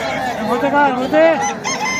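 A rooster at a chicken fight fair gives a single loud, drawn-out crow close up, with a short rising and falling call near the end.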